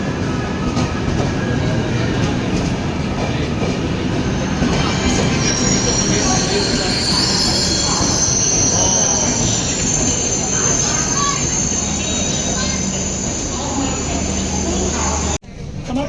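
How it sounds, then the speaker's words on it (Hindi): The Tejas Express passenger train from Mumbai Central to Ahmedabad rumbles loudly along the rails with steady wheel noise and a high metallic squeal, heard from on board with voices in the background. "ये आ गई पूरी तेजस एक्सप्रेस पे हम बैठ गए अभी।"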